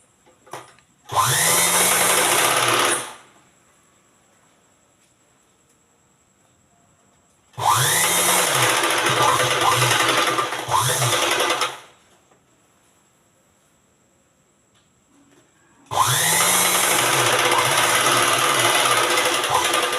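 A sewing machine stitches lace into the neck of a nighty in three separate bursts of steady, close whirring of a few seconds each, with quiet pauses between them.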